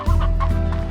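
Hens in the video game Slime Rancher cluck loudly and continuously in a quick, rhythmic burst, close and clear with no talking over it.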